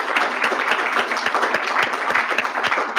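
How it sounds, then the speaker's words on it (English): Audience at a Washington panel discussion on the persecution of Christianity in Armenia applauds the expert panelists, a short burst of many hands clapping, fairly loud and continuous, with no voices over it. "Let's give them a round of applause."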